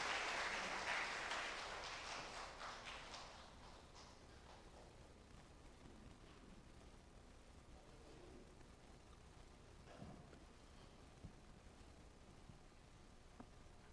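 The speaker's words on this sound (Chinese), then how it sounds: "我们再次用热烈的掌声来欢迎尤明师母" A church congregation applauding during a Sunday service: faint, distant clapping that is fullest at the start and then fades to quiet room noise with a few stray claps.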